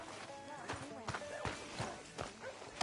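Horse hooves clip-clop in a PS4 Western game, a steady run of sharp, fairly close thuds mixed with background sounds, with voices talking over them.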